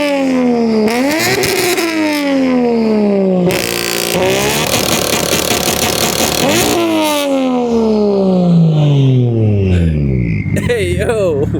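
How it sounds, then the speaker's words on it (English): A single-turbo BMW engine with anti-lag revs hard several times, with pitch sweeping up and falling back between pulls and a burst of harsh crackling in the middle; the sound is loud and close throughout. "So that was revving it with the anti-lag."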